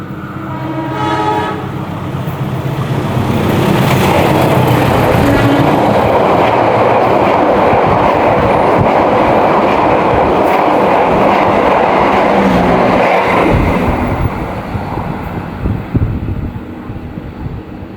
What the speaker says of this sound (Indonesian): menunggu kereta api Pandalungan melintas di stasiun Babat